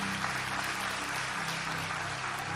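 A church congregation applauding during a live service, a dense, even wash of clapping from many hands that continues steadily throughout.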